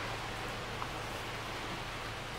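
Steady heavy rain drumming on the roof of a 2021 MG ZS car, heard from inside as a continuous, even wash of noise with no talking.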